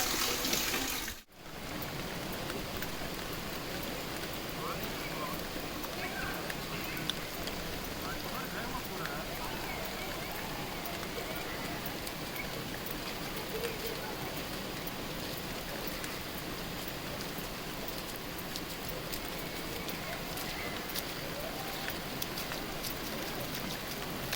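Heavy rain pours steadily and loudly on the way to a temple, a dense unbroken hiss lasting throughout after a brief dip near the start.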